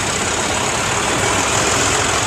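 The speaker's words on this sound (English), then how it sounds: "1967 Massey Ferguson 150." A 1967 Massey Ferguson 150 tractor engine runs steadily at a parade, a loud, close, continuous idling drone with no break and no voices over it.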